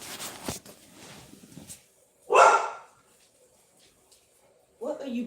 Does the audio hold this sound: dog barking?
yes